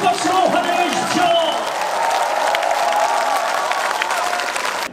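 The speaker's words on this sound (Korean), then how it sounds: "큰 박수로 환영해 주십시오" Large rally crowd in Daegu applauding and cheering to welcome a speaker, loud at first and then settling into steady clapping, with shouting voices and a public-address voice mixed in.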